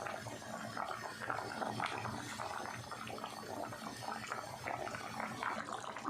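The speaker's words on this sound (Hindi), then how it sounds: "पानी में बॉयल आ गया, अब हम इसमें चावल डाल देंगे" A pot of water boils after rice goes in for kala chana pulao, with a steady bubbling, rushing simmer that stays close and even for several seconds and has no voices over it.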